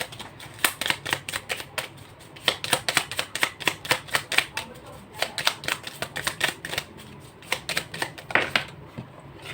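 Tarot cards are shuffled in a rapid run of crisp riffling snaps and flicks, close and fairly quiet, with no voices over them.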